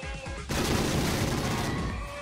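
Sustained gunfire erupts after a half-second lull, a dense, loud burst of rapid shots that carries on for nearly two seconds before easing slightly.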